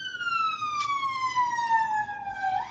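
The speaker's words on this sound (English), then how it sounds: "I'll pause for the siren." A siren wails outside in one long, steady tone that slowly falls in pitch, then rises sharply near the end as it passes, loud and clear over a faint background hum.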